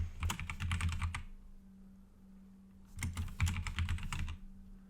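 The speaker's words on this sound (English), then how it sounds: "Type in your full name," Typing on a computer keyboard in two quick bursts of close, crisp key clicks separated by a pause, over a low steady hum, with no voices.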